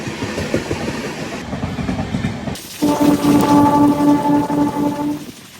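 A Nellore–Vijayawada MEMU express train picks up speed, its rumbling motion loud and close with steady rolling noise, and a sustained tonal whine from the traction equipment rising in the second half.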